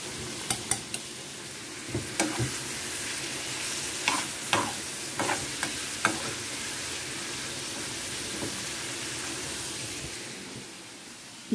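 Meat cooks in its own juices in a pan, frying with a constant soft sizzle at close range and sharp clinks and scrapes of stirring scattered throughout.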